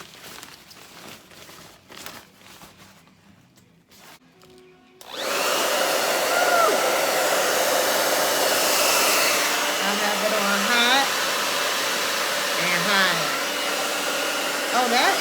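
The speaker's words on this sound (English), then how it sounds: "So this is like a blow dryer cap." A hair dryer cap switches on after a few quiet seconds of faint rustling, then blows with a loud, steady whooshing hum that continues to the end.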